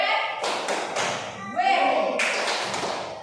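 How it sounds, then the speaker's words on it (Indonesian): Children in a classroom clap in short bursts, bright rattling rounds of applause separated by brief pauses, with voices speaking over them. "Tepuk tangan buat Ani"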